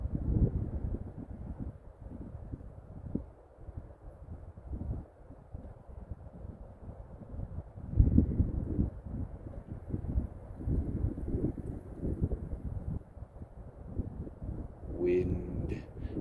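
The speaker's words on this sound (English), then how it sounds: "Wind." Steady wind blowing outdoors on a sunny, cold fall day, rumbling and buffeting a microphone close up, with a faint voice near the end.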